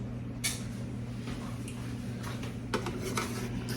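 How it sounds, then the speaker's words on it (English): A spoon stirs cheese and noodles in a pan for mac and cheese, giving a few scattered metallic scrapes and clinks over a steady low hum. "Let's stir up our cheese and noodles."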